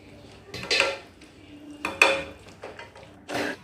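A spoon scraping and clanking against a pot while chicken is mixed with cashew paste and salt, a few sharp metallic knocks spaced apart over quiet background.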